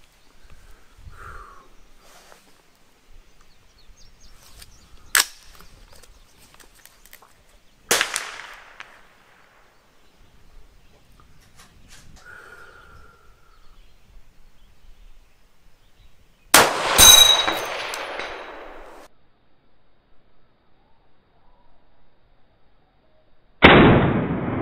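Rifle shots are fired at a 4-inch target 400 yards away, with several sharp cracks spread across the clip and a louder, longer report with trailing echo, separated by quiet outdoor pauses.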